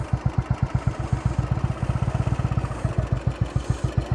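Royal Enfield motorcycle ridden up a mountain road, its single-cylinder engine thumping in a loud, steady, close pulse with clattering mechanical texture and a slight rise in pace.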